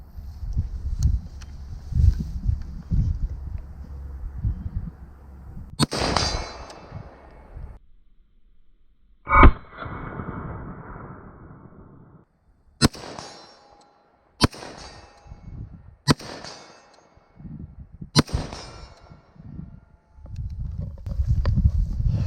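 FN SCAR rifle shots ring a steel target at 100 yards outdoors: several sharp reports, each followed by a distant metallic clang, spaced irregularly over stretches of ambient noise and faint movement.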